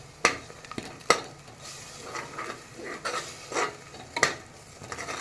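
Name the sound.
sautéing biryani masala and spices in oil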